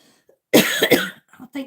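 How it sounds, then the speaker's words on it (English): A woman in a makeup demonstration gives one sharp cough close to the microphone, followed by a couple of softer throat sounds. "I think sometimes these lights get me hot and I start to coughing."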